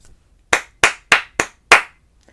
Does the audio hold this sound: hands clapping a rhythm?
yes